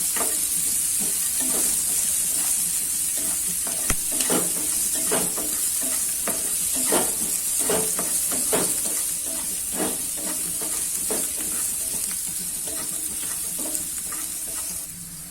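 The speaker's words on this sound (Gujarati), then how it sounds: "આપણે એકદમ ડુંગળી સાતળી લેવાની છે, સરસ ટ્રાન્સપરન્ટ થાય ત્યાં સુધી." Onions sautéing in hot oil for Punjabi dal fry: a loud, steady sizzle and hiss runs throughout, with repeated scraping strokes of a spoon stirring the pan, and no speech.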